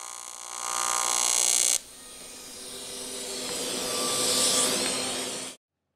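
An AC TIG welder running on aluminum, a steady close buzzing crackle of the arc that shifts pitch partway through, swells, then cuts off abruptly into silence.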